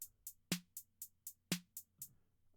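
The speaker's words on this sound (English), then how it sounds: "So this is just hi-hats on eighth notes, snares on 2 and 4." BandLab drum machine beat with crisp hi-hats ticking on eighth notes and punchier snares landing on two and four, a short clean loop heard alone at low volume.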